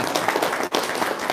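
An audience at a religious talk bursts into dense, continuous applause, loud and washing over the room with a brief dip midway.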